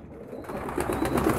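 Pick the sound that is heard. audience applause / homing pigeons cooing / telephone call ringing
homing pigeons cooing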